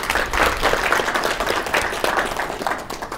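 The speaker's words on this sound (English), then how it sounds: "A round of applause for all our speakers." An audience applauds its speakers after a communication and perception presentation, loud, dense clapping from a crowd close by, continuous and slightly pulsing throughout.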